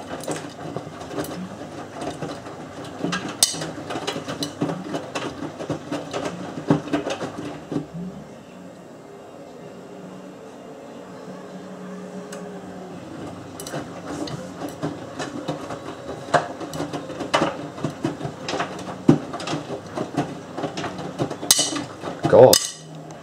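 A Miele W562 washing machine running its intermediate spin on a Minimum Iron 30ºC cycle with Short and Water Plus: a steady mechanical hum and rattle carries through the whole stretch, with irregular clicks and knocks on top.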